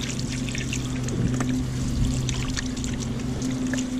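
Running water rinses Atlantic sharpnose shark steaks and a tail piece, a steady close splashing pour with a low hum beneath it, and no one speaking.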